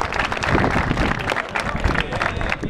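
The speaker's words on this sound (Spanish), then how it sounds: "¡Un aplauso!" Audience applause at a freestyle rap battle, steady dense clapping mixed with crowd noise and voices, loud and continuous throughout.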